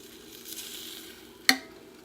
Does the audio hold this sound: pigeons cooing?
no